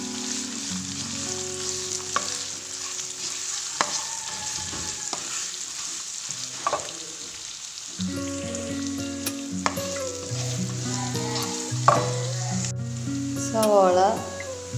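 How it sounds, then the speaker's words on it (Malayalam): Green chilli, shallots and garlic sautéing in a pan with a continuous sizzle and occasional stirring scrapes, while a tonal background with musical notes runs underneath. "നന്നായി വഴറ്റിയെടുക്കുക."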